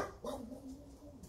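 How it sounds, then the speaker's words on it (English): Dog barking at a house, a single short bark and whimpering yelp, faint and somewhat distant, with no talking. "the dogs are barking."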